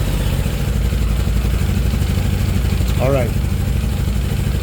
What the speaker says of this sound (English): All right, let's get this bike going and I'll show you what I'm getting here.